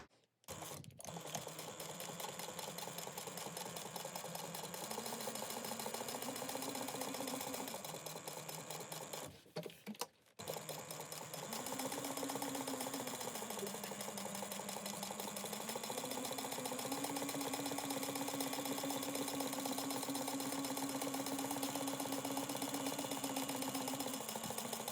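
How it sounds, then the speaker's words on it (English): A sewing machine runs a long top stitch in a steady, fast mechanical hum with a slight pitch rise partway, nearly continuous after a brief pause, close and fairly quiet. "We're going to top stitch this at 1/8 of an inch."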